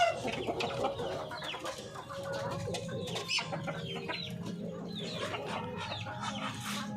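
Chickens and ducks cluck and chatter continuously nearby, with other birds calling over a busy outdoor background.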